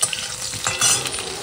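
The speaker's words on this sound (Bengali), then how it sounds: "আর আমি এখানে ফুলকপি ভাজছি।" Cauliflower frying in a pan crackles and sizzles loudly, with a scraping stir partway through and no voices.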